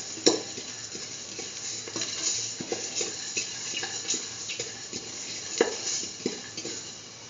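Ginger mixture with salt being stirred in a pan for curried green peas and beetroot rice, a steady scrape of spoon against metal with light sizzling and occasional sharper clinks, close and alone.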